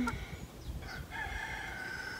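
A rooster crows close by, a single drawn-out call over a quiet background with faint clucking from chickens, and no one speaking.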